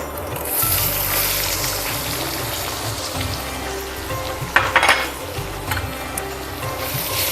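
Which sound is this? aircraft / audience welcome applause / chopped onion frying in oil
chopped onion frying in oil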